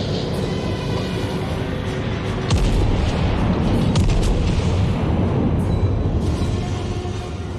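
Warship naval guns fire in the game World of Warships: heavy booming blasts over a constant deep rumble, with several sharp, loud reports standing out through the stretch.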